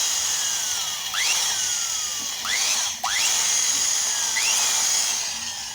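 Power drill running with a 14 x 1.5 bit through a stripped spark plug thread on a power saw, a steady high whine that dips in pitch several times as the bit loads up, close and continuous with no talking.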